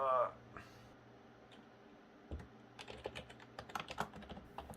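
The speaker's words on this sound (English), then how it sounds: "This uninterrupted typing you can hear right now is me blindly entering the description" A computer keyboard clatters with rapid, uneven keystrokes that grow busier toward the end, after a brief voice at the start, on a Windows XP setup.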